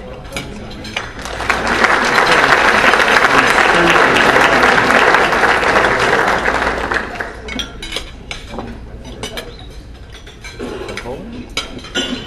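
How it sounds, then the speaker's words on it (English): Audience applause at a candidate forum in Fort Myers, swelling quickly into sustained loud clapping for several seconds, then thinning into scattered claps and crowd murmur with some voices. "round of applause"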